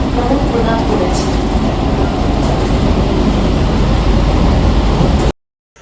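A train pulling into Naihati Junction, a constant loud rumble of wheels and carriages that fills the scene and then cuts off abruptly.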